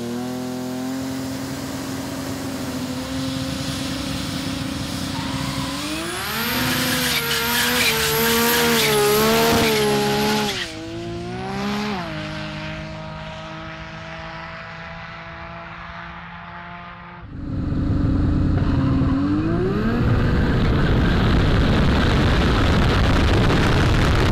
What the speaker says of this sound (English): Considering it was his first real time driving the car in anger, John decided some warm-up runs were required